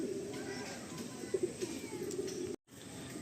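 Madrasi pigeons coo softly in a pair of short murmuring calls against a steady hum, with a brief drop-out near the end.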